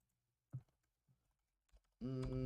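A folder name is typed on a computer keyboard during a Docker web-server setup: a few sparse, quiet key clicks spaced apart, then a voice starts talking at the end.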